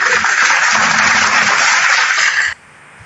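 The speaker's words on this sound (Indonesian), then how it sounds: "Tepuk tangan dulu." An audience claps in a dense, loud burst of applause with a harsh, radio-like tone, then it cuts off abruptly into quiet near the end.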